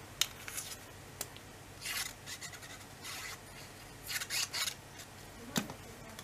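Scissors snipping paper for a scrapbook album, several short crisp cuts and rustling scrapes at close range in a quiet room.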